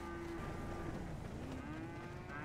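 Cows in a GTA roleplay video game give a long, low moo that slides in pitch, heard over a steady background hum, moderately faint and without speech.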